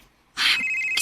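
Telephone signalling an incoming call late at night, a single bright electronic ring that starts abruptly and carries on close and loud.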